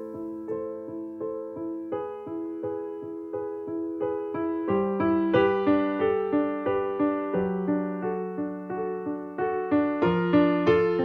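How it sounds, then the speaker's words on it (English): A grand piano sample library plays a slow, expressive passage of sustained chords and single notes with gentle decays, each struck note fading into the next, clean and alone with no talk. "This piano has quite a bit of character to it."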